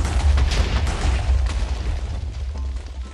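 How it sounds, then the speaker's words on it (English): A big explosion in the Minecraft video game booms loudly and rumbles on as a deep, sustained roar, dense with crackling debris, fading slightly over a few seconds. "I'm gonna do a big explosion"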